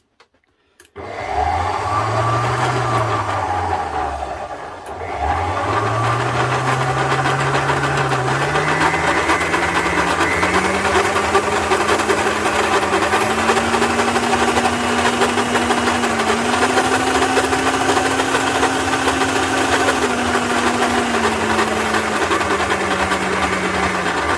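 Budget Homemaid or Savisto food mixer motor starting up and running, a loud, steady whine that rises in pitch, dips briefly, then climbs again and holds, with no talk.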